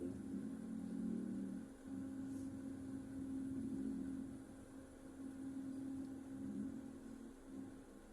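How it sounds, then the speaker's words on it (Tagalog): A large truck driving close behind a vehicle in heavy traffic, its engine a steady low drone with a sustained hum and slight rises and falls, close and continuous. "Ang laki-laki ng truck tumututok sa likod."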